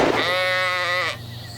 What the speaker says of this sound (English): That was a sheep.